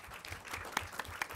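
A seated audience at an academic study day at the Collège des Bernardins gives a brief burst of applause, a soft, even patter of many hands with a few louder individual claps standing out.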